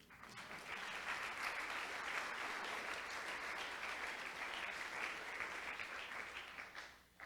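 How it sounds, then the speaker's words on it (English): A live-streamed literary audience claps after a poem reading at a Chicago literature event, a full, even wash of applause that holds steady before tapering off near the end, heard at a distance and fairly quiet. "You don't have to clap after every poem"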